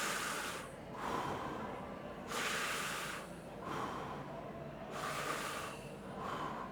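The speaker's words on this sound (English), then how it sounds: "Okay, breathe in." A group of people breathing together at a closing ceremony, with four or five long, evenly spaced nasal inhales, each a soft hissing rush lasting about a second, over a quiet room.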